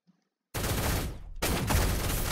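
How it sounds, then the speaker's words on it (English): Bursts of rapid automatic gunfire in a shooter video game, close and loud, starting abruptly after a near-silent moment, with a brief dip before another sustained volley. "Oh, I hear bullets."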